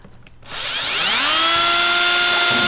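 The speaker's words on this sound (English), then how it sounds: "this little drill bit actually came with the camera. So I'm going to go ahead and run this through" A small drill bit bores a hole in a Toyota Camry for a backup camera: the motor spins up with a rising whine, holds a steady high-pitched drone for about two seconds, then stops abruptly, close and loud.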